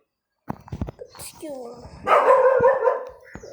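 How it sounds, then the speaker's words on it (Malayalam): A dog barks indoors, a few sharp nearby barks and yelps mixed with a person talking, followed by a louder burst of barking. "അത് നായ്ക്കൊട്ടി തുടങ്ങി."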